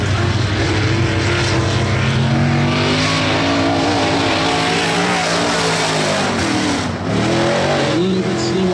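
A late model race car on a qualifying lap roars past with a loud, sustained engine note that rises and falls in pitch as it passes, while a commentator speaks faintly underneath.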